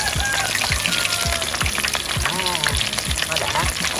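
Field crabs frying in a pan, a dense continuous sizzle and crackle of hot oil with small pops and occasional utensil clinks, close and steady throughout.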